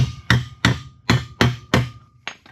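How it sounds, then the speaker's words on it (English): A hammer drives a toothed connector plate into a 2x4 with six sharp, evenly spaced blows, close and loud, ending on a lighter tap. "Give them a little hammer"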